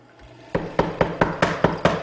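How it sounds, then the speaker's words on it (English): A mortising machine thumps through wood cutting a mortise in a steady series of about seven sharp strikes, each with a short grinding tail, close and fairly loud. "we like to make the mortises with our dedicated mortiser"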